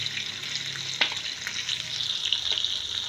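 Fish frying in a pan, a steady close crackling sizzle throughout with a sharp pop or stir clatter near the one-second mark.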